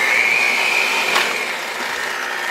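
An electric hand mixer beating dark brownie batter, a loud, steady motor whine with a high tonal hum that shifts slightly in pitch as the beaters move through the mix, with no talking.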